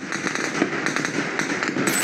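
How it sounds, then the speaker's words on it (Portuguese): Rapid gunfire during a police operation in the Alemão and Penha complexes of Rio de Janeiro, dense overlapping cracking shots in quick irregular bursts, somewhat distant and echoing. "Quase 200 disparos em 1 minuto."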